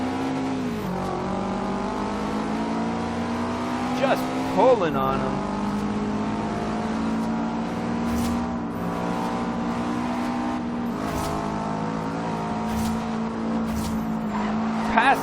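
Subaru STI with all-wheel drive racing in Forza Horizon 2, its engine droning and shifting pitch through gear changes, brief tire squeals mixed in, while someone commentates over it.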